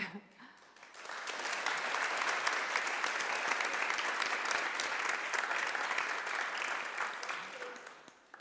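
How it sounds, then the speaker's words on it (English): An audience gives sustained applause to welcome a guest at a talk on women's rights and identity in the Middle East. The applause rises quickly after a brief opening and stays loud, dense and even for several seconds before fading. "Give her a big applause as well before."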